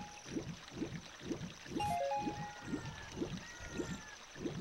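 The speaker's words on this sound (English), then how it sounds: "It's Discount Mario snoring." Cartoonish snoring from Mario in the Ocarina of Time game, a slow regular cycle of soft breathy snores, about nine in a row, faint and alone over a quiet background with a few light chimes.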